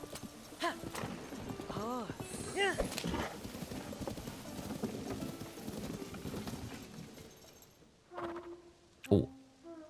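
Rhythmic hoof clip-clops mixed with a horse's whinny and game-like effects in Zelda: Tears of the Kingdom, with people talking over it throughout.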